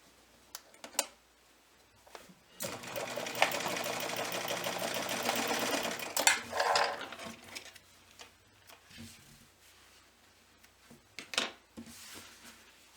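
A sewing machine stitches bias tape onto a quilted hot pad in one steady, fairly loud run of about three and a half seconds. Brief handling clicks and shuffling come before and after it.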